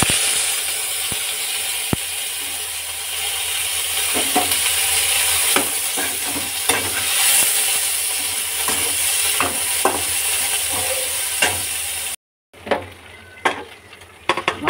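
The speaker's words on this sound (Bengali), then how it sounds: "এবারে চিকেনটাকে একটু ফ্রাই করে নেব।" Small cut pieces of chicken fry in a pan with a steady, loud sizzle and hiss, broken by scraping stirs and light clinks, before a brief cut to quieter, intermittent sounds.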